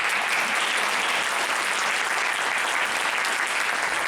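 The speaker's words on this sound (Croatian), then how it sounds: "Aplauz!" An audience at a theatre performance applauds with dense, even clapping that holds steady at close range for about four seconds. No voices stand out above it.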